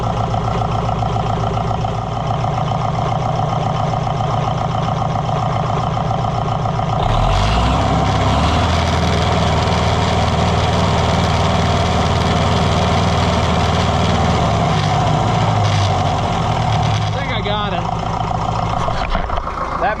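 An Oliver 550 tractor diesel engine running after a new injection pump install, a loud, steady, close rumble that picks up into a heavier, rougher idle partway through and holds there.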